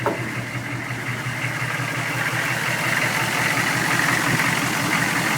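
A warmed-up 6.5L turbo diesel swapped into a K5 Blazer idles steadily, with a loud, close, continuous low clatter and drone that stays even throughout.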